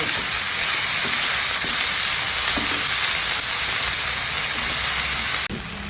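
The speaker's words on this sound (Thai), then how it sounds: "นี่เราผัดอยู่นานเหมือนกันนะคะ" Chili paste (nam prik nam nor) is stir-fried in a pan, giving a dense, steady sizzle with faint scraping from the stirring, loud and close throughout.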